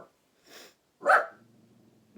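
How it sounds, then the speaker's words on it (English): An angry dog barks once, loud and close, at neighbors passing outside, preceded by a short breathy sniff and trailing into a low rumbling growl. "my dog's very angry at our neighbors for walking outside."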